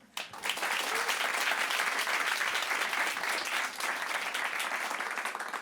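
A theatre audience at a magic show breaks into loud, dense applause that swells quickly and holds steady as a continuous wash of clapping, close and full, with no talk over it.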